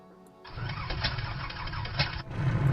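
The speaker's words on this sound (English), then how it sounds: "There we are, engine started." Edgley EA-7 Optica aircraft engine in Microsoft Flight Simulator cranks and catches after a quiet moment, then runs on as a loud, rough mid-pitched drone that builds toward the end.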